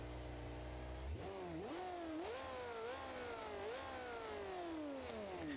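A flat-plane crank 527 Chevy LS V8 in a driving simulation game idles, then revs up repeatedly in rising and falling sweeps, a raspy, high-pitched engine note heard alone and fairly quiet.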